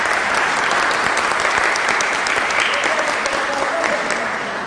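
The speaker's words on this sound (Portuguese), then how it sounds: "Uma salva de palmas, por favor." Loud, steady applause from a school audience at Colégio Pedro II welcoming the theatre troupe Grupo Galpão, dense clapping throughout with a faint voice murmuring underneath, easing slightly at the end.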